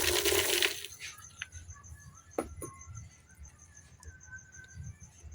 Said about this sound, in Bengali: এখন এই জায়গায় দিতেছি আমি বোম্বাই চানাচুর